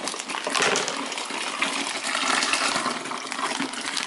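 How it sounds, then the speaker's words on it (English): Warm water is poured into a home-brew beer wort container, a steady splashing gush that swells and eases slightly over a few seconds, heard up close with no talking. "now that we have the wort container filled with warm water, we're just going to pour it in there"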